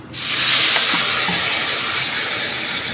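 Water hits hot oil spiced with salt, turmeric, cumin and coriander in a pan over low gas, bursting into a loud, sustained hissing sizzle that rises fast and holds steady.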